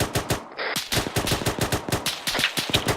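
Rapid automatic gunfire in ArmA 3 during a military infantry advance, with dense bursts of sharp, loud shots cracking close by in quick, irregular succession and no voices.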